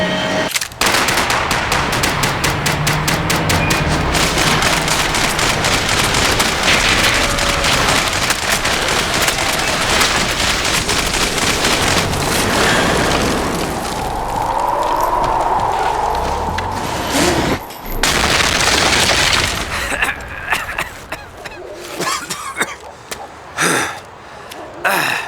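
Max Payne 3 combat, with loud, dense gunfire and rapid automatic bursts that keep going for a long stretch, then thin out into a few scattered shots and quieter moments near the end.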